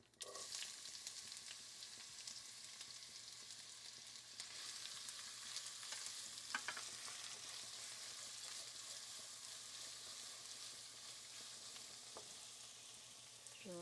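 Onion frying in a pan for kovakka thoran, an even, faint sizzling hiss with a few light stirring clicks and no speech.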